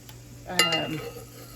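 Garlic dropped into hot coconut oil gives a short burst of sizzling and a light stirring clatter, rising suddenly and then fading within about a second, heard close up.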